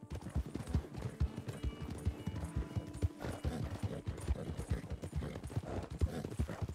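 A horse gallops along in Red Dead Redemption 2, its hooves clip-clopping in a quick, steady rhythm, close and continuous with no voices over it.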